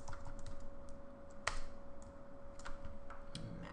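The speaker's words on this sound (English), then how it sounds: "Maximize this so you can actually see what I'm typing." Scattered keystrokes click on a computer keyboard, quick taps with pauses between them over a faint steady electrical tone.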